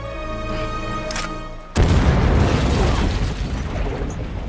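A bomb goes off in an action scene from the 2018 film Aquaman. A sharp, loud blast cuts in after a steady musical score, then spreads into a long, rumbling roar.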